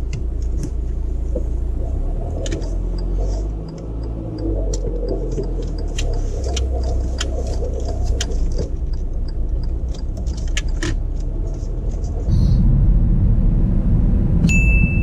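A car pulls away during a driving test, its engine a low steady rumble from inside the cabin, rising louder near the end, with small clicks and rustles over it.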